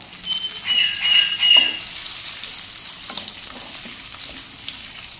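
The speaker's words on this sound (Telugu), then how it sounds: "చూడండి, జీడిపప్పులు ఇలాగా దోరగా వేగుతున్నాయి కదా" Soaked cashew nuts fry in hot oil with a soft, steady sizzle, close by, with a few faint stirring scrapes and no talking.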